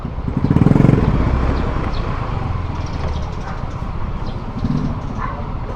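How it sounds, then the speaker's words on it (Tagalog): A newly bought motorcycle idles on a street, its engine running steadily nearby with a louder swell early on and another brief rise near the end, mixed with light clatter. "yan yan pala yung motor ko"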